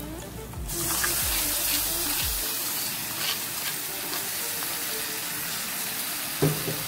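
Spice paste hits browned onions in a pan for Bengali fish kalia, giving a steady close sizzle with a brief splashy burst at the start and a sharp clatter near the end, no talking.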